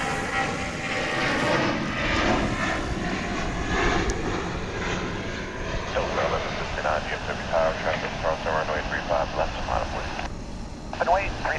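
A United airliner departing a runway at Dallas/Fort Worth International Airport, its jet engine noise a steady, broad roar throughout, heard under radio chatter and voices talking.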